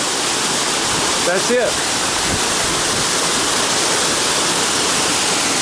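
Ramsey Cascades, a waterfall in the Great Smoky Mountains, gives a constant loud, close roar of falling water for the whole stretch, with a brief voice speaking over it.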